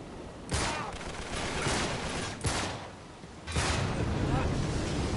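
Gunfire in the video game Uncharted 3: Drake's Deception comes as several loud bursts of rapid shots separated by brief gaps, over a dense rumbling action background.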